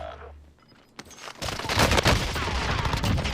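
Gunfire in the video game Modern Warfare Warzone: after a quiet start and one sharp crack, a dense burst of rapid, overlapping shots rattles loudly and steadily for about two seconds, close and without talk.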